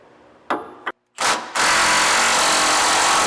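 A power socket tool working a steering gearbox bolt loose on a 2005 truck: a short whirring burst, a brief second burst after a pause, then a loud continuous run, close and with no voices.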